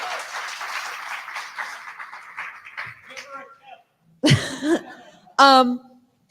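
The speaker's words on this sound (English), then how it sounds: "Hey, a big round of applause, please." Audience clapping at a political talk event with beers, a dense steady patter for about three seconds that fades out before loud voices break in.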